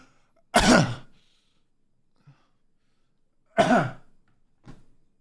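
A person imitates coughing: two sharp deliberate coughs about three seconds apart, then a small softer one, with silence in between.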